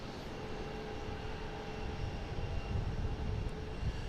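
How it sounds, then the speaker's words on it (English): A Delta Boeing 737-800 on arrival at Boston Logan, heard as a faint, distant, steady engine roar with no talking. "next coming in, we have a Delta from West Palm Beach. 737-800, flight 2170."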